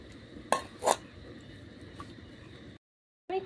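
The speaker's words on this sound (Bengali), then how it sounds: "ঢাকা চাপাটা আমি খুলে নেব" Metal pot lid lifted off a cooking pot of boiling cabbage, two sharp clanks of metal on metal over a low background hum, followed by a short silence and another faint clink.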